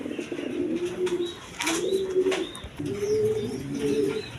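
A pair of Bombay pigeons, male and female, coo in soft repeated throaty rolling calls, close by, in several drawn-out phrases with brief pauses and faint chirps, no talk.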